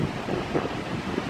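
Strong wind buffets the microphone beside a road at the edge of a field, a steady loud rushing roar throughout the short stretch.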